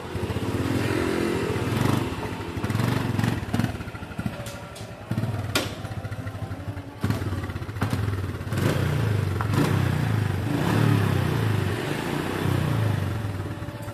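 A Honda Win motorcycle engine idles roughly and revs in repeated throttle blips, loud and close, with mechanical clatter and occasional knocks over a steady low rumble.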